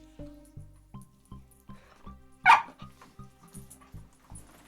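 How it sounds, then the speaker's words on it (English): A street dog barks nearby, a sharp burst standing out over a steady pattern of low rhythmic sound. "Sorry, street dog."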